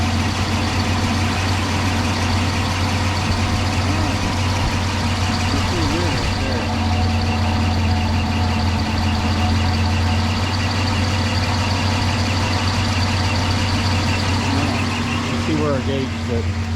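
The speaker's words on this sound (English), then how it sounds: "we're just gonna let her sit right there and idle and warm up" An overheating truck engine idles steadily with a low, constant rumble, close by, while a few faint beeps and clicks occur near the end.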